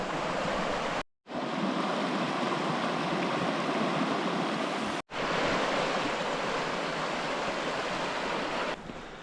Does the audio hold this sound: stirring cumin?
no